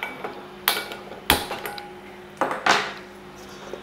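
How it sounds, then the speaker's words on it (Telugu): A pot is set down on a kitchen stove and the burner lit while preparing oats pulihora, giving several sharp metallic clanks and clicks with brief bright scrapes, close and fairly loud over a quiet room. "గిన్నెను పెట్టుకొని స్టవ్ వెలిగించి"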